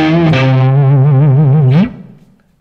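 Distorted electric guitar note bent on a lower string in a blues style, a sustained overdriven tone with wavering vibrato that slides upward before cutting off and leaving a short reverb tail.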